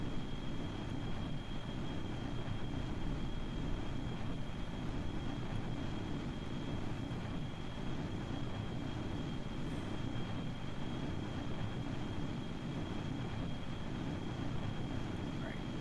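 A jet engine's afterburner in the Kerbal Space Program video game gives a steady, loud, broadband roar that holds without a break from start to finish, with a faint thin whine above it.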